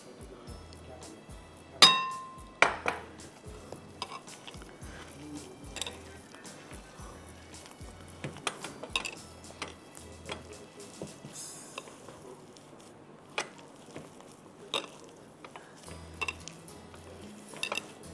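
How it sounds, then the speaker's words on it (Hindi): Ingredients being mixed in a bowl for tandoori drumsticks give sparse clinks and scrapes of a utensil against the dish, with one sharper clang early on and quiet gaps between strokes. "अब इसको मुझे बहुत अच्छी तरह से मिक्स करना है।"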